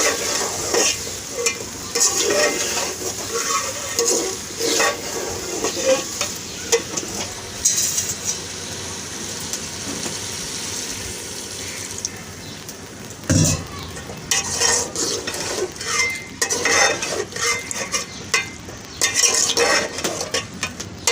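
Taro root (arbi) stir-fried dry in a pan, with steady sizzling and frying hiss broken by repeated stirring scrapes and occasional clinks of a utensil against the pan, continuous and close with no talking.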